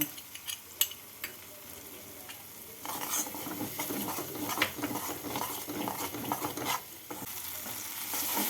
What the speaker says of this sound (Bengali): এবার এর মধ্যে দিয়ে দেবো পোস্ত কাজু আর চার মগজ বাটা ভালো করে মিশিয়ে নেব